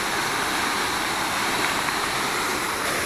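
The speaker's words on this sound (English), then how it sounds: "They said it was a triple waterfall." A triple waterfall pours in a steady, broadband roar, even and unbroken throughout, with no voices.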